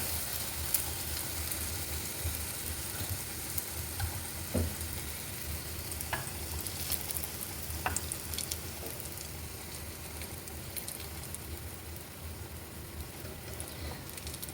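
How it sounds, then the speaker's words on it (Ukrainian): A donut fries in a pan of oil with a faint, steady sizzle and a few small pops, and no one speaks. "Так, жарю наступний пончик."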